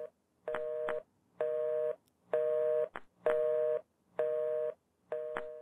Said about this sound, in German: Ich höre ein Telefon.